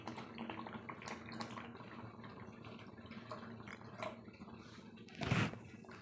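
Water is poured into a pot of cooking mappillai samba rice porridge, a quiet trickling and dripping backdrop that swells into a brief louder gush near the end, with no talking.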